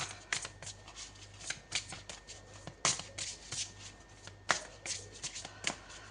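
Tarot cards shuffled by hand in a steady run of soft riffling and slapping, close and continuous with a few sharper snaps, over a low hum.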